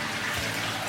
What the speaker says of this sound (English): Prepariamo il riso mettendo 2 litri e 3 di acqua in una pentola.